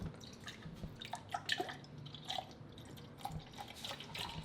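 Almond milk trickles and drips into a cup in a quick, irregular patter of small splashes, quiet and close, with no voices.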